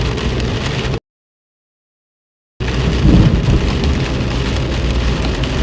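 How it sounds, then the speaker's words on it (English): Loud thunder from a close lightning strike during a severe storm in New York, heard over steady heavy rain, with a deep rumble swelling after a gap of silence. "that was a close strike of lightning"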